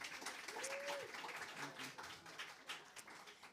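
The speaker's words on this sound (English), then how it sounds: "So a big round of applause for them." A museum jazz concert audience gives a round of applause, a faint, scattered clapping with a bit of crowd noise, fading unevenly over a few seconds.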